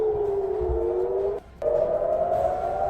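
An air raid siren wails steadily with a rising tone, cuts out briefly, then resumes loud and sustained, with no talking.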